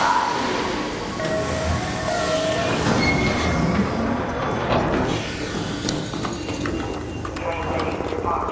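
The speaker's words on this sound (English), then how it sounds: "Train ready for departure." A train departing a station in the video game Arc Raiders, a steady rolling rumble with wheel and carriage noise running continuously at moderate loudness, faint voices mixed in beneath.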